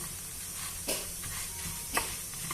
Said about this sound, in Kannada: ಸಾಸಿವೆ ಜೀರಿಗೆ ಹಾಗೆ ಕೊತ್ತಂಬರಿ ಬೀಜ ಹಾಕ್ಕೊಂಡು ಮೆಣಸನ್ನು ಹೊರ್ಕೊಳ್ತಾ ಇದ್ದೀವಿ ನೋಡಿ ಇಲ್ಲಿ ಎಲ್ಲನೂ ಚೆನ್ನಾಗಿ ಫ್ರೈ ಆಗಿದೆ